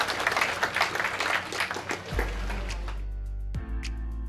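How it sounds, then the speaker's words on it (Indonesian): Village residents gathered at a community event in Kampung Pelangi, Desa Mulyosari, applaud in a dense, continuous wash of clapping that fades out after about two seconds, leaving a low electrical hum. "Tepuk tangan untuk warga Kampung Pelangi"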